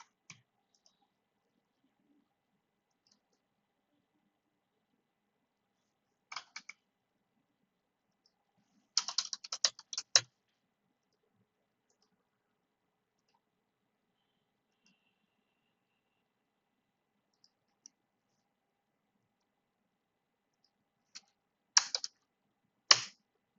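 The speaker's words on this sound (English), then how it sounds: "So I'm typing." Short bursts of typing on a computer keyboard during an interactive MATLAB session, quick clusters of key clicks separated by long silent gaps, close and fairly quiet.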